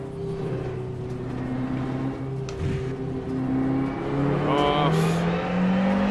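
Race car in the rFactor 2 racing game, engine droning steadily then climbing in pitch through gear changes as it accelerates, close and continuous with a brief voice over it.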